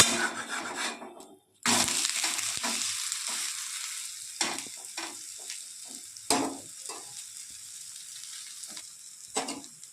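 Adai dosa frying in oil on a pan, a close, steady sizzle broken by a brief silence, then several scraping strokes of a spatula against the pan.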